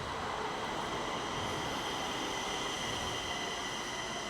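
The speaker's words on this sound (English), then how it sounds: "Oh, the train coming in." Stockholm metro train arriving at Kristineberg station, a steady broad rushing rumble with faint high wheel tones, moderately distant and continuous with no talk.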